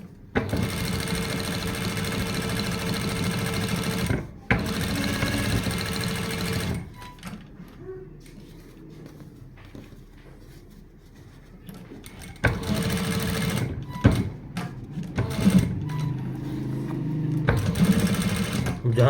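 A sewing machine stitches a sleeve placket and cuff in bursts of fast, steady whirring, stopping and restarting several times, with quieter handling sounds in the pauses.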